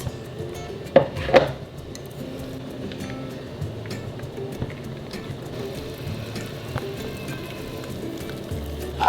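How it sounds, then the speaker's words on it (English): Cheese sauce for baked mac and cheese stirred in a pot: a couple of sharp clinks of a utensil on the pot near the start, then a soft continuous scraping and bubbling under a low kitchen hum, with no talk. "Stir constantly until it is smooth and creamy"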